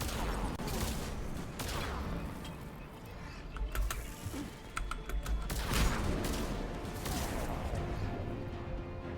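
A shotgun fires in Mass Effect 3 amid game combat: a few sharp, loud blasts stand out over a busy, crackling wash of clicks and mechanical noise, with no voices.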